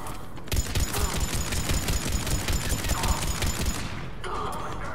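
Sustained automatic gunfire from the video game Mass Effect 3, a loud, rapid volley of close shots that runs for several seconds and then cuts off abruptly, leaving quieter game ambience.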